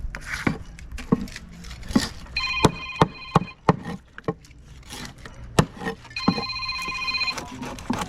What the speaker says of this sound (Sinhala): නම්බරයට ගහලා ඉවරලා කෝල් එකක් දෙනවා.